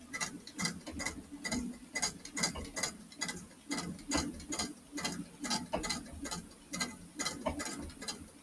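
Sewing machine stitching a small fabric sack, a steady run of close, evenly spaced mechanical ticks and clicks over a low hum, with no voices.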